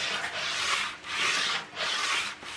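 Polyurethane-finished wood is sanded by hand with the grain for a van build, three smooth rasping back-and-forth strokes, close and steady with brief pauses between passes.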